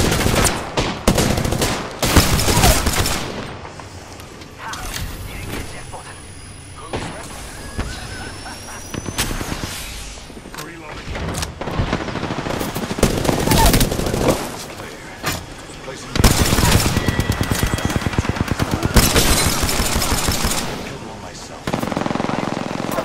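Rapid gunfire in Apex Legends: loud, dense automatic bursts and single shots crackle again and again throughout, broken by brief lulls, with other game effects mixed in.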